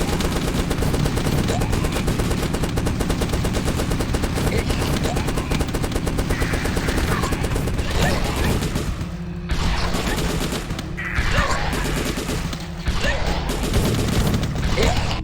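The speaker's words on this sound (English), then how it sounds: "Second day, and a giant machine gun plus an RPG." A giant machine gun and an RPG firing in The Last Stand video game: dense, continuous rapid gunfire fills the whole stretch with heavy blasts and crashes, broken by a few brief gaps near the end, loud and without talk.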